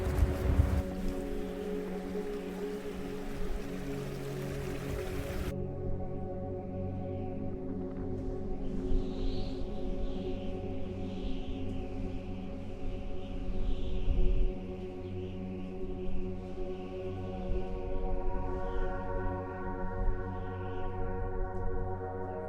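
Strong wind blows steadily across open mountain terrain at Grövelsjön, a continuous rushing roar buffeting the microphone with gusts that swell and ease throughout.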